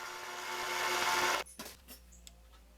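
A mini metal lathe turns a small brass flange part, giving a steady bright whirring hum for about a second and a half before it stops abruptly, followed by a few faint clicks.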